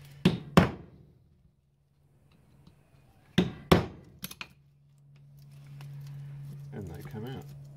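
Sharp metal-on-metal smacks on a Holden Grey motor part from an EJ Holden while knocking screws loose: two loud strikes, a pause, then two more followed by lighter taps, with a low hum and brief movement noise afterward.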